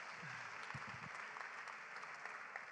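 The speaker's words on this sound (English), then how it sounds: "Give him a special round of applause as well." Applause at a summit session for a city minister who hosted, a steady wash of clapping heard fairly faint and distant, with a brief low thump near the start.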